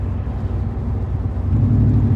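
Loud low engine rumble from inside a moving car, a continuous heavy drone that swells slightly toward the end.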